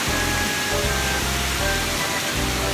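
A small cold-water waterfall at Badiang in Valencia, Bohol pours in a loud, constant rushing roar, close and unbroken, with no voices over it.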